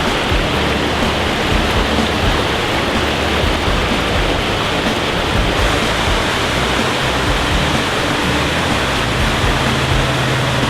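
The Cascade des Combes waterfall near Saint-Claude in the Jura in summer, a loud, close, unbroken roar of falling water, dense and steady for the whole stretch with no voices.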